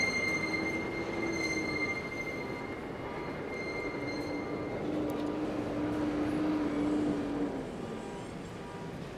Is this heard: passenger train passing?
yes